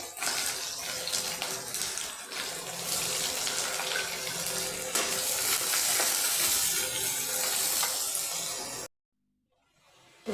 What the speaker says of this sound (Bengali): এবার আমি পেঁয়াজটা লাল করে ভেজে নিয়েছি